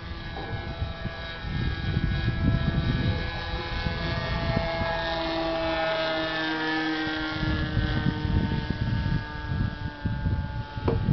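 An F-22-style RC model plane flies overhead, its steady electric whine with shifting tonal harmonics holding loud and continuous, as if close to the microphone, with rumbling outdoor noise underneath.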